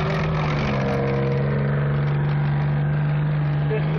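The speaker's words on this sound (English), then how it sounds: "This particular vehicle is powered by two V8 Cadillac engines." A parked M24 light tank runs its twin V8 Cadillac engines with a steady low drone and a faint rev, close by, while a person speaks over it.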